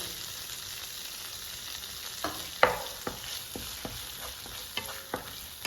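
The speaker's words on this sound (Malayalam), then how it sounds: "ഇനി നമുക്കിതിലേക്ക് ഇഞ്ചിയും വെളുത്തുള്ളി ചേർത്ത് കൊടുക്കാം" Finely chopped ginger and garlic fry in oil for a Kerala-style prawn roast, a low steady sizzle broken by sharp spoon scrapes and taps against the pan every half second or so, close and without speech.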